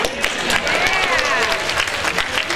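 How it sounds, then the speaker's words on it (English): Audience applause for Joe at a Comikaze 2012 convention panel for SyFy's Face Off, a dense, steady wash of clapping lasting a few seconds, with cheers and voices mixed into the crowd. "Let's have a round of applause for Joe."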